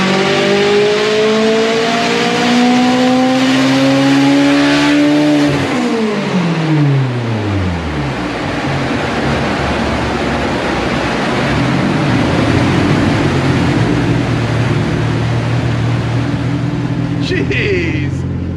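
Turbocharged Mitsubishi Evo X engine revving hard on a dyno during a peak power test, a loud rising run toward redline with climbing harmonics, then dropping off into a steady roaring drone with brief sharp transients near the end.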